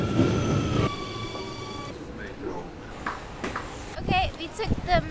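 A metro train in an Amsterdam station rumbles, then its wheels give high, wavering squeals as it moves along the track, with people speaking partway through.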